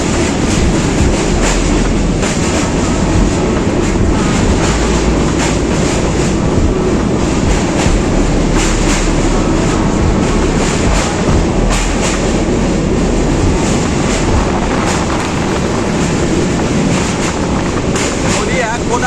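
Jammu Tawi Express pulling into platform 1 at Kumardubi station in Jharkhand, a loud, steady rolling rumble of wheels on rails with faint clatter throughout.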